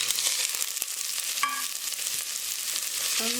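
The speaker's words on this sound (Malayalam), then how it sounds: "നന്നായിട്ട് വഴറ്റി കൊടുക്കുക." Thinly sliced onions sautéing in a pan after mustard seeds have popped, a steady crackling sizzle with occasional stirring clinks and brief tonal utensil scrapes.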